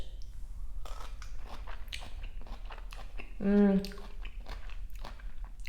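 Close-up chewing of crunchy radish with smoky baba ganoush at a Lebanese steak kabob meal, with steady crisp bites and mouth sounds and a short voiced exclamation midway.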